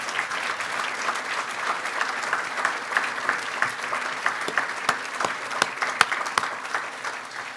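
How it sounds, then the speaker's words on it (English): Steady applause from a sizable crowd at an awards dinner, clapping continuously at an even level throughout, with no voices standing out. "please join me in a round of applause"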